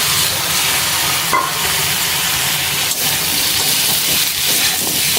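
Pumpkin sizzles loudly and steadily in a hot wok, a constant hissing fry with occasional stirring scrapes.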